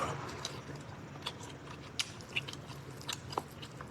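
Someone eating longganisa sausage, with soft biting and chewing crunches scattered over about four seconds, faint and close against a quiet background hiss.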